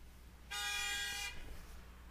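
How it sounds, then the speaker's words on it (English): A car horn honks outside in one sustained blast of about three-quarters of a second, loud and bright, against a quiet room, then fades into low background hum. "Some guy's acting like a dick outside and honking horns."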